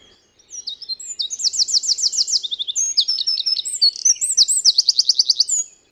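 A wren sings alone at close range, a bright, loud run of rapid high trills and chattering notes that repeats in a second fast burst.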